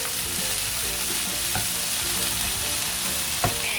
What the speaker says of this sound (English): Add a little salt. 1 pinch, 2 pinches. And stir fry it.